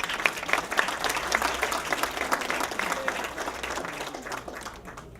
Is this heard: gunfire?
no